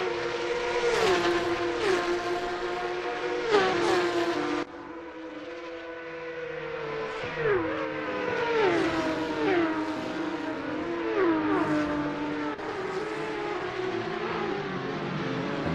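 Porsche Carrera Cup race cars run close together, their engines howling loud and near as they rev and shift through repeated gear changes, with one car passing by and several overlapping engine notes rising and falling.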